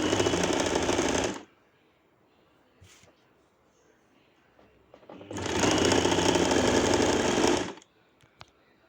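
Sewing machine stitching fabric along a marked line for a shawl collar coat, two loud bursts of rapid continuous whirring separated by quiet with faint handling noises.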